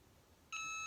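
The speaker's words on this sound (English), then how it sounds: "you'll hear a beep when this timer is ready" A Cricut EasyPress heat press timer gives a single clear electronic beep that starts halfway through and holds steady to the end, over a quiet background.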